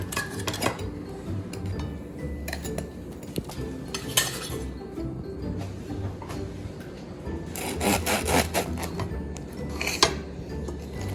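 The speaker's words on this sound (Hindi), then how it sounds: "आप नाइफ से इसको काट लें।" A knife saws through a hot toasted cheese sandwich with melted cheese, giving close, rough scraping and crunchy rasps with occasional clinks against the plate, steady throughout and with no talk.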